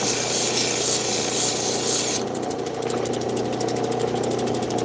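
Abrasive grinding takes JB Weld epoxy down along the girdle edge of a Nila turquoise stone: a steady, close, rasping whir that shifts to a thinner, brighter rasp partway through, with no talk.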